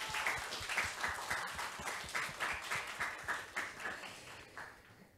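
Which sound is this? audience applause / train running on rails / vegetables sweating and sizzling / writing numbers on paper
audience applause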